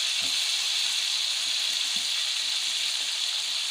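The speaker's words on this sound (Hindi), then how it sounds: "फिर इसको लो फ्लेम पे टमाटरों के साथ फ्राई करें" Tomatoes fry over a low flame for a Peshawari Shinwari chicken karahi, a steady bright hiss of sizzling oil with a few faint soft pops underneath, continuous and close.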